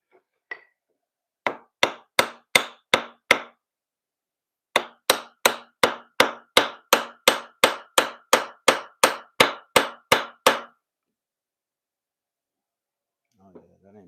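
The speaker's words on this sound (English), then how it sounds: "hammer down into it" A hammer pounds on a surface in a home workshop, two bursts of sharp, evenly spaced metallic strikes, about six and then about sixteen in quick rhythm, loud and close with no talk over them.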